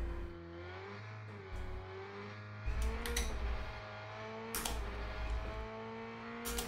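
A race car engine howls at full throttle in the sim racing game Rennsport, holding a steady high drone with rising pitch sweeps and a few sharp gear-change bursts, loud and close with no talk.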